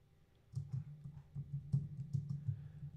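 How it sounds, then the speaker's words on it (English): A computer keyboard clacks on a desk in a quick, uneven run of close keystrokes that sound moderately loud, with a low thump under each press and no talking. "I know you hear my keyboard clacking away on my desk."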